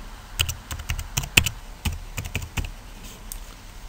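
Password keys tapped out on a computer keyboard in an irregular run of close, crisp clicks, with short pauses between bursts and no voices.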